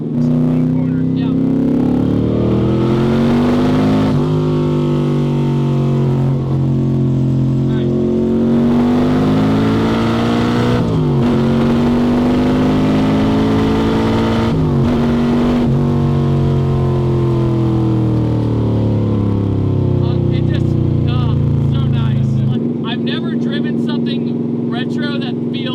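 A carbureted LS-swapped C3 Corvette engine drones loudly and close, rising and falling through repeated acceleration pulls and shifts before easing off near the end, with people talking over it.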